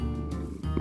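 A Minecraft cat makes a brief, low, purring call, up close and alone, lasting under a second.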